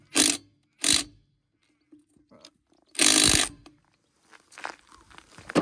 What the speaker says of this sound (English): We're using a fucking rattle gun.